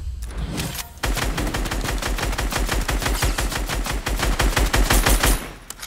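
Sustained minigun fire in a first-person shooter game: a rapid, unbroken stream of loud gunshots kicking in after a brief pause and rattling on for several seconds before cutting off.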